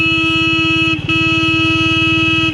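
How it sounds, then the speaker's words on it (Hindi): A horn sounds continuously on an empty road, with a steady loud tone that dips briefly once near the middle and carries a throbbing engine pulse underneath, and no voices. "अब ये रोड खाली है, मैं हॉर्न मारूं"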